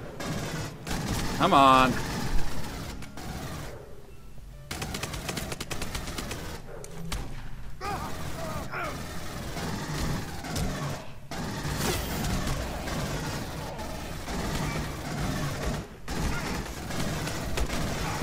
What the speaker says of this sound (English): Oh look, more guys with guns. I guess I'm going to shoot them.